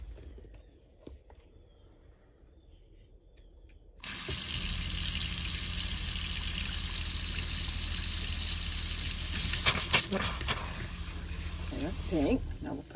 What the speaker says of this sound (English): Starting with the kitchen sink, we're gonna run both hot and cold until it runs pink.